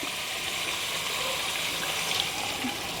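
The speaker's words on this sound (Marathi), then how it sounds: "बस एवढंच पाणी टाकायचं." Water pours steadily into a pot of chicken being cooked for biryani, a continuous close gushing splash that lasts throughout without pause.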